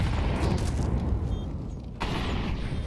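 A grenade pops during a Counter-Strike match: a dull boom bursts in around the two-second mark over a continuous low rumble of in-game noise.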